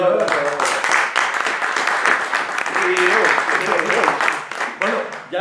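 Loud, sustained audience applause fills a book-launch event hall, dense clapping continuing steadily throughout without a break.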